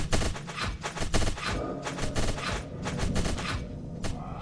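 Rapid gunfire in the game Silent Castle, a dense volley of close, loud shots in fast irregular bursts that continue for several seconds with heavy low thumps.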